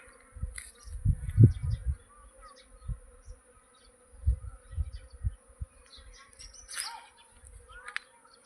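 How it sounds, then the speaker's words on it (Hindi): A flying swarm of honey bees just out of a hive box, buzzing in low, uneven surges that swell and fade close by, with faint outdoor background and no talk. "ये है मधुमक्खियों का नज़ारा।"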